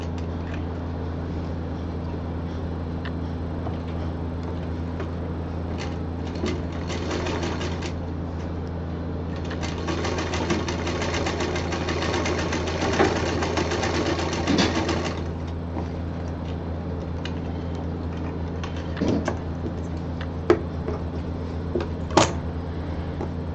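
A sewing machine runs a double line of stitching on the lining of a handmade expandable bag, giving a continuous close motor hum with a denser, louder rattling burst of stitching in the middle and a few sharp clicks near the end.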